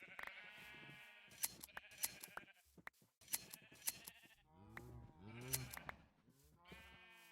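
Sheep bleat repeatedly in a modded Minecraft world, several wavering calls overlapping one another, fairly close and loud, with no talk over them.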